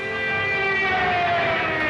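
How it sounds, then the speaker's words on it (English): A Berlin air raid siren sounds for a civil defense rehearsal, wailing in a steady, sustained tone that wavers slightly in pitch, loud and continuous. "Sirens sound the alarm in Berlin for the first rehearsal"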